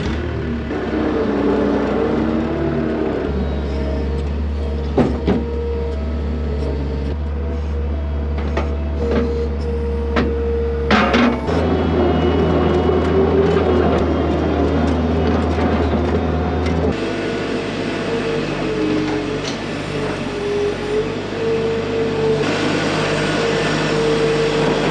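A tractor and a skid steer loader idle and run on a farm, a low steady engine drone with shifting pitch and occasional clanks and mechanical knocks, fairly loud and close.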